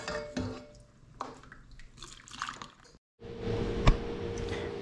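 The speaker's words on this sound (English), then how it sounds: "we're gonna ladle in the dill pickle brine." Dill pickle brine is ladled into canning jars in a few uneven pours and splashy trickles. A short silent break is followed by a fuller liquid gush and one bright clink of the ladle against glass.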